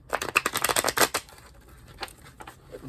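Tarot cards are shuffled in a rapid burst of crisp riffling clicks, close and fairly loud, which fades after about a second into a few scattered soft card sounds with no talking.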